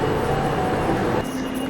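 Train arriving at Milano Centrale station, a steady rolling rumble with a faint tonal hum that drops in level near the end, with voices mixed in.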